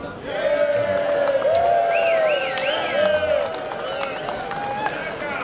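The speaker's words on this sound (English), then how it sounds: "This call for a round of applause to all" A crowd at an international hash running event in Fiji claps and cheers, a steady wash of applause and whoops with voices mixed in throughout.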